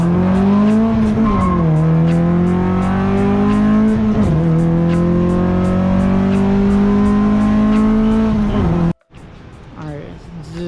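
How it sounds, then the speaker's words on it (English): Tuned Honda B18C engine with full bolt-ons running close by, held at high revs with a loud, steady, buzzy drone that dips and rises twice before cutting off abruptly near the end, followed by quieter idle and shuffling sounds. "So you rev it and then you stop and then the RPM goes all the way."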